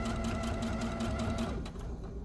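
Close and loud, a sewing machine hums at a continuous rapid stitching pace while topstitching a fabric strap closed, easing slightly near the end.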